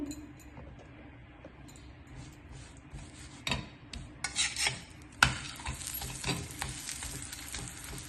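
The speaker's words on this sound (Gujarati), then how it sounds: "ઘી નાખીને આવી રીતે સાતળી લેવાની છે." Fig pieces sautéing in ghee for fig rabdi, starting as a soft sizzle, then growing busier as a utensil scrapes and stirs through the pan with sharp metallic clinks.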